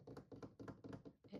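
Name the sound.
tapping on an old oak desk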